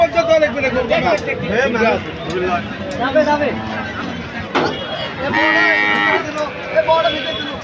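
Cattle at a busy cow and buffalo market in Bangladesh, with a low moo rising through constant loud talk and crowd chatter, plus scattered knocks and thumps.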